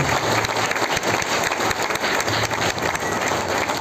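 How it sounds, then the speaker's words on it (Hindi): A seminar audience gives loud, sustained applause for the local host from Gurgaon, a dense continuous roar of many clapping hands close by, with no talking over it. "आशीष जी के लिए एक बार बहुत ही अच्छी तालियां चाहूँगा"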